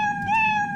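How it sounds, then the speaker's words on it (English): A single close, clear cat meow lasts under a second, its steady tone lifting slightly in the middle, with no talk around it. "meow all you want, guys"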